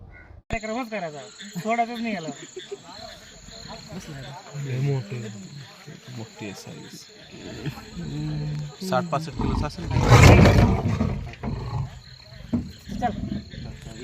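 Captured leopard in a cage, heard in Osmanabad (Dharashiv) as a harsh growl and roar bursting out loudly midway amid crowd voices and talk, with insect-like chirping in the background.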